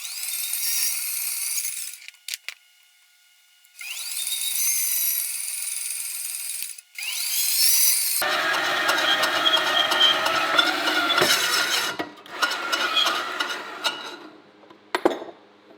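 A Wen benchtop metal bandsaw starts and stops several times, whining loudly, then bites into metal with a harsh grinding, rasping cut that runs for several seconds before the motor cuts out.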